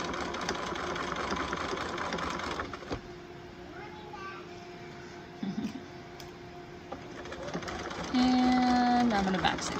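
A sewing machine stitches a hem in woven fabric with a steady mechanical whir that stops and restarts, and a voice talks over parts of it.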